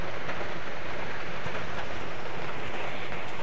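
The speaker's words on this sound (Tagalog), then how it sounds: "Ulan yun siya, guys." Heavy rain falling steadily outdoors, a dense continuous hiss and patter with no breaks, loud and close throughout with no voices.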